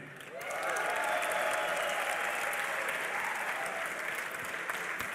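A tournament crowd at the DreamHack Winter 2012 grand finals, an esports event, breaks into sustained applause and cheering that swells quickly and holds as a dense, loud roar of clapping, with a whistle-like tone running through it.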